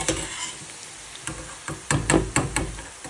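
Food sizzles and crackles in hot oil while a utensil knocks and stirs several times, the bursts growing louder toward the end.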